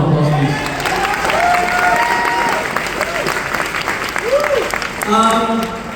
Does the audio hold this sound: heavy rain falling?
no